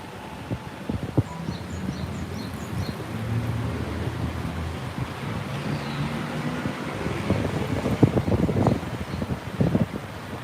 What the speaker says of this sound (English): Wow, the wind just picked up.